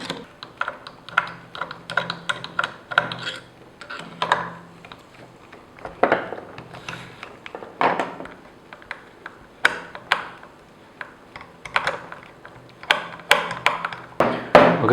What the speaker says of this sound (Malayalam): അപ്പോൾ അത് നമുക്ക് അഴിച്ചെടുക്കാം.